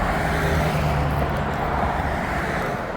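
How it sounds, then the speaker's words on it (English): Road traffic rolls past on a highway near a trail walk, a continuous, moderately distant hum of car tires and engines with no clear single pass standing out. "More cars."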